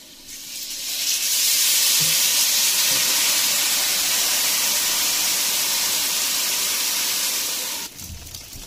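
Pan-fried buns cooking over a fire, a loud, steady steaming hiss and sizzle that swells in after a second, holds evenly for several seconds, then cuts off abruptly near the end as the lid lifts.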